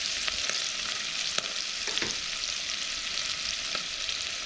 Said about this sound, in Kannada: ಹಸಿರು ಮೆಣಸಿನಕಾಯಿ, ಈರುಳ್ಳಿ ಹಾಕಿ ಫ್ರೈ ಮಾಡಬೇಕು